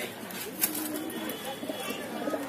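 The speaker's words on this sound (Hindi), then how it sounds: "ये हमारे पास इलाहाबादी कबूतर है" Soft, low Allahabadi high flyer pigeon coos murmur continuously at close range at a pigeon loft, beneath a steady bed of background noise, with a brief brighter chirp early on.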